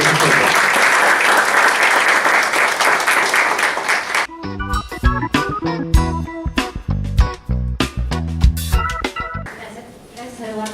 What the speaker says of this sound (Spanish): Les pido por favor un fuerte aplauso para Joana